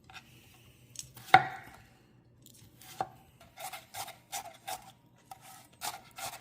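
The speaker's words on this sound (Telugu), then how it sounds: "రాయితాలో కూడా వేయాలి, ఫైన్ చాప్ చెయ్యి." A knife on a cutting board chops vegetables finely for raita in a home kitchen, with one sharp knock followed by a brisk run of evenly spaced close taps and no speech.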